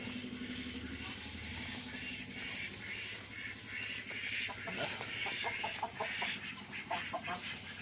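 Chickens clucking softly in the background amid faint outdoor ambience, with scattered short clucks growing more frequent toward the end.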